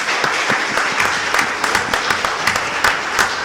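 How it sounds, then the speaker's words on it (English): A crowd at a housing authority scholarship award ceremony gives loud, continuous applause, many hands clapping close by in a dense, lively rhythm with a few louder individual claps standing out. "let's give them all a round of applause."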